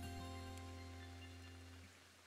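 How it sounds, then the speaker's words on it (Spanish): Steady, soft rain hisses in the Pokémon Legends: Arceus video game, a faint, continuous wash beneath sustained musical tones that thin out near the end. "Pero es solo lluvia."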